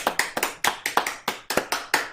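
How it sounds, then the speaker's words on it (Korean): A church congregation applauding to give glory to God, about a dozen fairly even, crisp claps in a steady rhythm, moderately quiet and close. "우리 영광의 박수 하나님께 돌리겠습니다"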